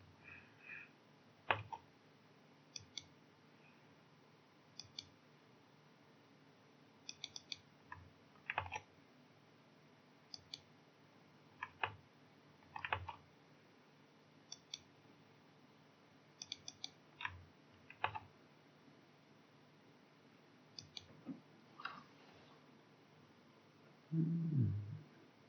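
Typing on a computer keyboard comes in scattered short bursts of soft clicks, with quiet gaps of several seconds between them, over a low, faint background hum.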